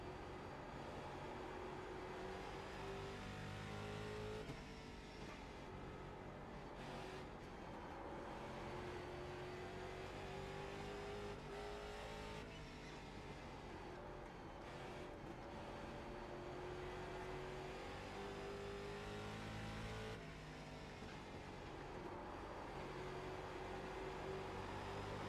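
A race car engine in iRacing drones steadily and close, rising in pitch through each gear as it accelerates, then dropping at the shifts, repeating in several sweeping climbs.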